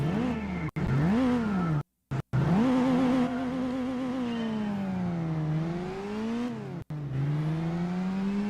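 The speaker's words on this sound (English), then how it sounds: "Never mind the exhaust." A race car engine in Gran Turismo 4 revs and climbs through the gears from a standing start, a steady loud whine that rises and falls with brief cuts at the shifts, with no talking.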